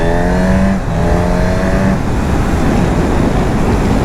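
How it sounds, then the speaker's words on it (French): A motorcycle engine revs hard and loud, its droning pitch climbing and settling, then easing into a broad, rushing roar of riding on an open road. "Le son du moteur"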